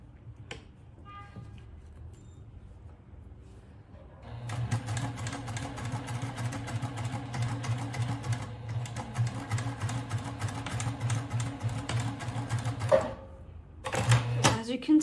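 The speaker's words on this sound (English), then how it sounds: "Now I'm going to sew the other side here. And back stitch." A sewing machine stitching a tote bag runs in a steady mechanical whir with a rapid needle rhythm, starting after a few quiet seconds and briefly stopping near the end. A voice talks quietly over it.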